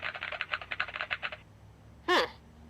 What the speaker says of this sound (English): hear the hacking keyboard noises.